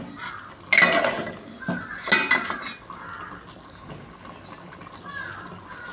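Beef cooking in a pot on a gas stove is stirred, giving a few clattering scrapes and clinks of utensil against metal in two short bursts near the start, then quieter bubbling and faint movement.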